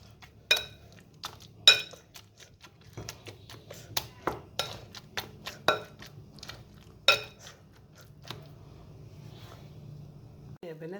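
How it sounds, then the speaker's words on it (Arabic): A potato masher presses peeled cooked eggplant for baba ghanoush, giving quiet, irregular taps and clinks against the bowl with soft squelching gaps between strikes. "هنمسكه بالهراسه هنهرسه ونشوف هنحط عليه ايه تاني"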